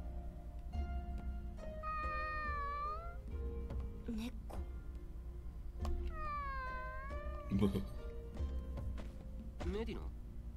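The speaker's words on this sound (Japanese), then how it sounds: "das ist eine Katze" A stray cat in the Sword Art Online Alicization Lycoris video game gives two drawn-out, rising-and-falling meows several seconds apart, heard over soft game music with brief voice sounds in between.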